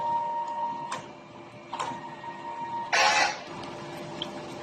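DTF printer running a head clean cycle: several short mechanical clicks and whirs, then a louder burst of pumping noise midway over a faint steady hum, no talk.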